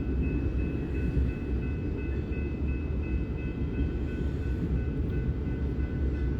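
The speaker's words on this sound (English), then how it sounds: "Another unit train of grain," A southbound unit grain train of corn or soy cars on the Sioux City subdivision near Fremont rolls past in a steady low rumble with faint squealing overtones, constant and moderately loud throughout.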